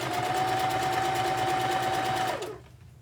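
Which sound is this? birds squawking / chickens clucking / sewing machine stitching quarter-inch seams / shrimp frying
sewing machine stitching quarter-inch seams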